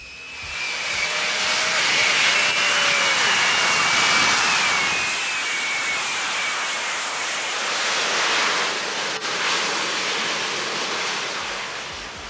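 Jet engines of the Lazareth LMV 496 transforming hover bike let out a loud, continuous high-pitched whine and roar with a rising tonal sweep early on, sustained and fairly close for the whole stretch.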